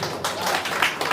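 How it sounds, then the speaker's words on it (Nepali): Brief, fairly faint applause breaks out for an honoured speaker at a Nepali literary gathering, a short burst of scattered hand clapping from the audience. "उहाँको लागि खै जोरदार ताली"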